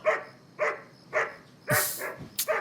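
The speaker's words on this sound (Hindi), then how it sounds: "क्यों भौंक रहा है?" A dog barks in a steady series of five or six sharp, fairly close barks at an even rhythm, alone with no talk.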